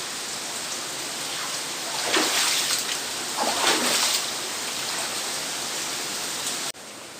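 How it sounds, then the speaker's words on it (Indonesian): Steady heavy rain pours down during a flood in Banda Aceh, Indonesia, a constant loud hiss with two brief louder swells of splashing water midway, heard alone without voices. "Sampai dengan hari ini hujan belum reda."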